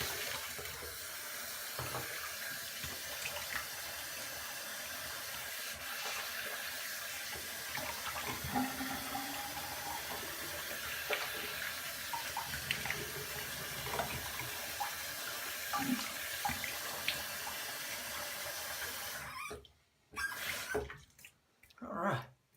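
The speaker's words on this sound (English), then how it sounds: "I'm going to rinse off." Tap water runs steadily into a sink for rinsing off after shaving, a continuous close splashing rush that stops abruptly near the end with a few brief spurts after.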